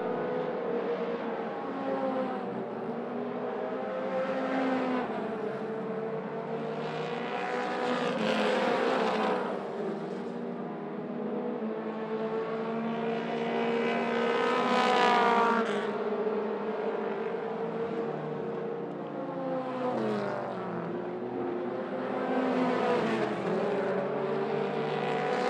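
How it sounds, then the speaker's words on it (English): Mini stock race cars roar around a speedway in a continuous loud pack, engine notes rising and falling as cars pass, with no talk over the steady racing noise. "Kyle Courtney, the inside of the 44 machine, Tommy Mettler,"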